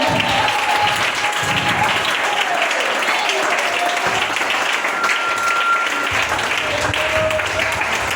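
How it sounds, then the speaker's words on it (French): A church congregation applauds loudly and steadily, with shouted voices and talk rising over the dense clapping throughout. "Donnez une acclamation."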